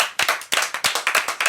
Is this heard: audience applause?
yes